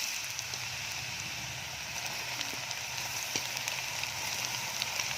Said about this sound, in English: You need to cook the tempeh until golden brown.